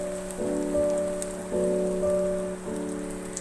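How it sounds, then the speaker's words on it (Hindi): Onions fry in a pan on medium flame, a soft, even crackling hiss that runs throughout beneath a steady droning musical tone. "मीडियम फ्लेम पे फ्राई कर रही हूँ मैं"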